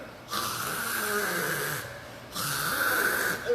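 A voice imitates the snoring of a man asleep in a cinema: two drawn-out, nasal snore breaths separated by a brief pause, close and fairly loud, with no other talk.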